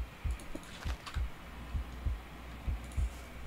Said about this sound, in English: A heartbeat. Right outside the door.